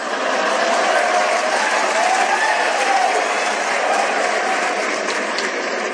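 A crowd at a Hindi kavi sammelan poetry recital claps steadily, with dense and loud applause filling the whole stretch without a break.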